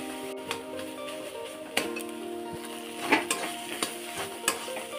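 A spoon stirs mashed taro leaf paste with shrimp in a pan over low heat, giving soft scraping strokes and sharper clacks against the pan over a steady faint sizzle.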